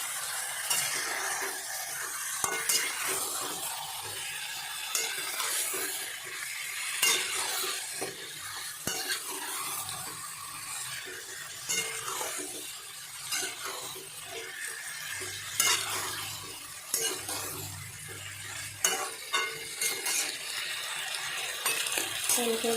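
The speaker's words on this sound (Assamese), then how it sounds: "এতিয়া ল' ফ্লেমত গেছটো দি এনেকৈ 10-15 মিনিট ভাজি থাকিম মই।" Broiler chicken pieces with gourd frying in a pan on a low gas flame while a spatula scrapes and stirs them in a repeated rhythm over a soft, continuous sizzle.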